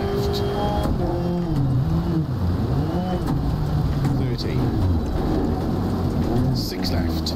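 A rally car's engine in DiRT Rally 2.0 drones loud and steady throughout, its pitch rising and falling with gear changes, with gravel and road noise under it.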